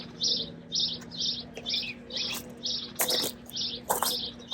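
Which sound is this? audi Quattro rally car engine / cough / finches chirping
finches chirping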